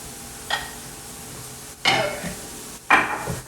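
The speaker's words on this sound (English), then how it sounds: "We're going to go ahead and add our cauliflower rice in" Four cups of riced cauliflower tumble into a pan of shallots and garlic with a few sharp clatters of utensil on cookware and a soft sizzle in between, close by and without speech.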